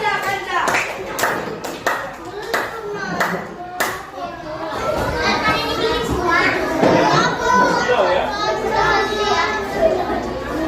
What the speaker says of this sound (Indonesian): Tepuk tangan untuk kelompok siap.